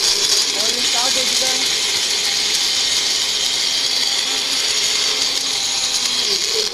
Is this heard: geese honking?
no